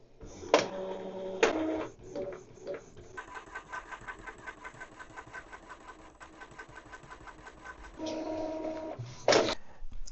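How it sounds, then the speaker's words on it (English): An Epson printer prints network status pages, with bursts of clattering paper feed at the start and end around a long stretch of rapid, rhythmic mechanical whirring from the print head, close and alone. "Now the printer will give you 3 pages, but actually you need only the first one."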